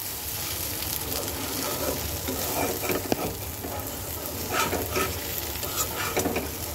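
A soybean and lentil fritter curry is sautéed in a pan, its steady sizzle joined by irregular scrapes and stirs of a spoon, close and moderately loud, with no speech.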